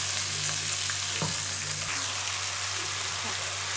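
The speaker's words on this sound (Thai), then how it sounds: "เดี๋ยวเราผัดให้เนื้อไก่สุกนะคะ" Chicken breast sizzles steadily in hot oil in a wok for pad see ew, a loud continuous frying hiss with a few faint spatula knocks and stirs beneath it.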